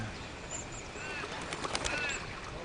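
Birds calling outdoors, faint scattered chirps and squeaky calls over a steady breezy background, with people talking quietly nearby.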